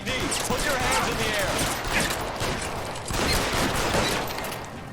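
Rapid gunfire in L.A. Noire as shots are aimed at a fleeing car's tires, a dense continuous burst of loud cracks with two brief lulls, mixed with engine and chase noise.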